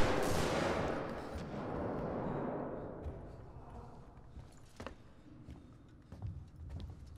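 Shotgun blasts at a robot in the video game Alien Isolation, several sharp broadband bangs with a loud opening burst and decaying tail, followed by smaller impacts over a steady game ambience.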